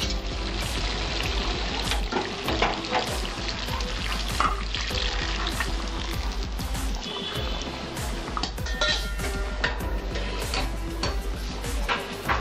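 Boiled water is poured into dahi chicken frying in a pan for a Bengali-style curry, a busy steady sizzle with crackling and light stirring clatter throughout.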